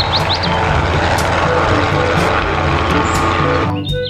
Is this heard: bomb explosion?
no